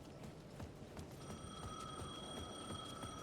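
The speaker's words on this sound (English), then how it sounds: "The payphone at the edge of the plaza was ringing again." A payphone rings in the video game Alan Wake 2, a faint electronic bell tone starting after about a second and sustaining over a low rumbling ambience with soft footstep-like thuds.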